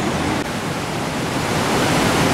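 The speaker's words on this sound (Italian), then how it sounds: "Bello rumore dell'acqua che spinge tra le rocce." A mountain torrent rushes between rocks below a drop of about fifty metres, making a loud, steady, close roar of water that stays unbroken throughout.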